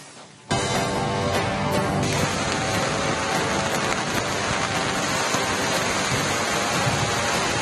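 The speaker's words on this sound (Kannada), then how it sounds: "ಮಳೆಯ ಆರ್ಭಟ" Heavy monsoon rain pours down in the Malnad hills of Chikkamagaluru, bursting in after a quiet half-second into a loud, dense, unbroken roar that holds to the end.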